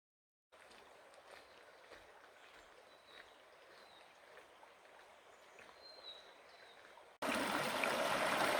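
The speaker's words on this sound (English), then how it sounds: "I've just come down into the river to get a bit of a close-up look at it." A steady, soft rush of the Franklin River in Tasmania flows at a gentle, even level for several seconds, then turns abruptly louder and broader near the end, as if heard much closer to the water.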